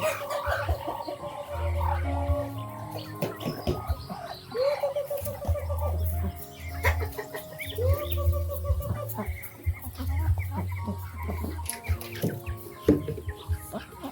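Chickens cluck and call on a farm where ducks are mixed in with them, a steady close chorus of fowl sounds that runs the whole time while people talk over it.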